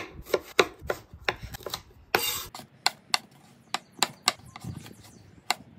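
Knife on a cutting board thinly slicing garlic for chorizo griddle potatoes, a run of about a dozen crisp, evenly spaced chops close up, with a short scraping rasp midway and no talk.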